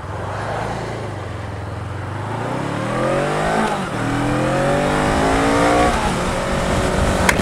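Honda CMX500 Rebel motorcycle pulling away from a standstill, engine note climbing steadily through several gear changes, close and loud with a throaty exhaust and no talking.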